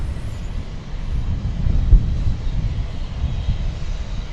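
A jet airliner takes off from DFW Airport, heard as a loud, broad low-frequency engine roar with rumbling wind buffeting. The steady drone swells slightly near the middle and holds without voices.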